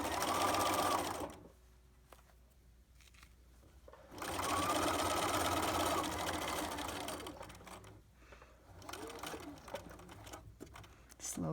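A sewing machine stitches across the bottom of a pocket in two close, steady bursts of rapid whirring, separated by quiet pauses as the fabric is repositioned, with a brief final start at the end.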